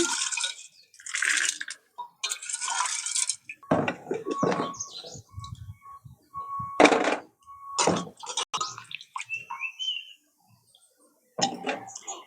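Soaked green peas go into a pressure cooker in several wet, splashing bursts with short quiet gaps between them, close by and fairly loud, with water dripping and a few light knocks.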